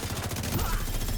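Rapid gunfire in a video game crackles in a dense, loud burst of repeated shots, heard close and continuous over a brief moment.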